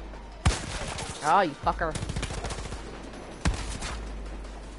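Gunfire in Far Cry 5 comes as sharp, loud bursts of rapid shots with sudden cracks between them, and someone talks excitedly over the shooting.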